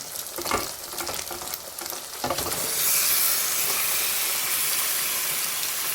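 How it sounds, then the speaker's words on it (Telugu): Marinated chicken is tipped into a pan of cooked ginger garlic paste and stirred, with spoon scrapes over a sizzle that swells into a loud, steady hiss of frying once the meat is in. Nobody speaks. "ఈ చికెన్ అయితే ఇందులో వేసి అయితే కలుపుకుందాం"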